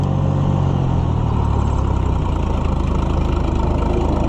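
A Minneapolis Moline HF88 Harvestor combine's engine runs close by on a farm, a loud steady low rumble with a rapid even pulse.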